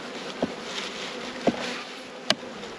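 Honeybees drone in a steady, moderately loud buzz around an opened hive during an inspection, with a few sharper close wingbeat passes cutting through at intervals.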